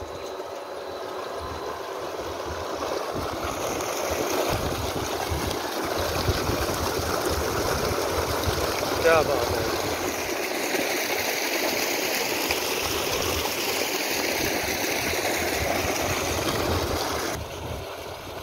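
Water gushes steadily from a well pump driven by a 15 hp solar-powered motor on a farm in Punjab, Pakistan, a loud continuous rushing splash nearby, with someone briefly speaking over it.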